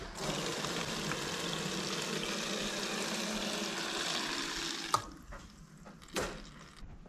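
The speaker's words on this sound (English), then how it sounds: "That's just old fuel going through the old fuel filter" Old fuel draining from a Datsun's old fuel filter, a steady rushing liquid hiss that stops abruptly partway, followed by a couple of faint knocks.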